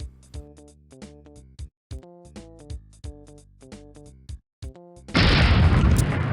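A single loud bomb explosion bursts in the 1998 video game Airline Tycoon, a broad noisy blast ending a bouncy musical jingle with repeated plucked notes.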